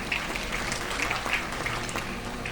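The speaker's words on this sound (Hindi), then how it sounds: "जोरदार ताली।" A crowd at a motivational talk bursts into loud, sustained applause, a thick wash of many hands clapping steadily with no voices over it.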